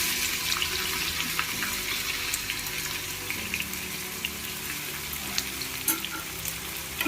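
Onions are frying with tempering spices in oil over a medium flame for a chicken biryani, giving a steady close hiss with scattered small pops and a faint watery clatter in the background.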